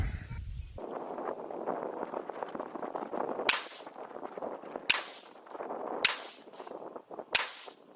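Four sharp rifle shots fired at a target 100 yards away with a night vision scope mounted, irregularly spaced, loud and close, each one a hard crack over a steady bed of outdoor noise, no talking.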